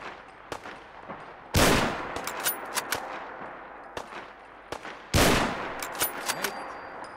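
Gunfire from the video game Fallout 4 while shooting zombies: sharp isolated shots and two loud heavier blasts with ringing tails, over a low game-ambience bed.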